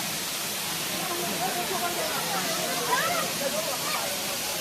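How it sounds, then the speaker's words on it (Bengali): A waterfall spilling down from a hill, heard as a steady, dense roar of falling water that stays even throughout, with faint voices murmuring underneath. "ওই যে ফলস দেখুন, ফলসটা দেখুন কত সুন্দর"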